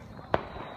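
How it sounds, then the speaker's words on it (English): A single distant firework bursts outdoors at night, one short, sharp pop against a quiet background. "I hear fireworks, but where are they?"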